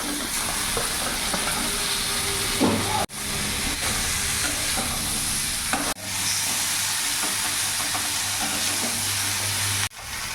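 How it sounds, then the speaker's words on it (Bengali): A steady, loud sizzle of potato, carrot, pumpkin and vegetable stems frying in a pan, broken by brief pauses, with scraping stirring sounds throughout. "কিছুক্ষণ ভাজা ভাজা করে নিয়েছি"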